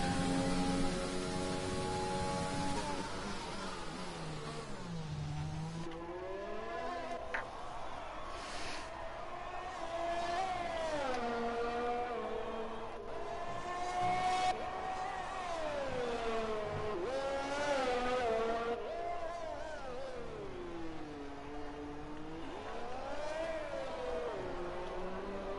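F1 race car engine in a Monaco Grand Prix racing video game, a high-pitched screaming whine that rises and falls repeatedly through gear shifts and corners, continuous and fairly close.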